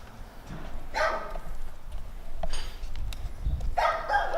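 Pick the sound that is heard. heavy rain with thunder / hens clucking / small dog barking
small dog barking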